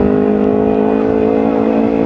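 A Kawasaki Ninja 250 Fi motorcycle with a racing exhaust holds a loud, steady high rev, its engine drone close and constant throughout the short stretch.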